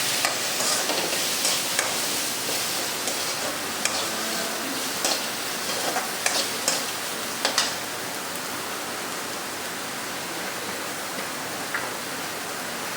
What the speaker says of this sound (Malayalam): ഇതിൽ കുറച്ച് വെളിച്ചെണ്ണ ഒഴിച്ച് കൊടുത്തേ സവോള ഒന്ന് മൂത്ത് വരാൻ വേണ്ടിയിട്ട്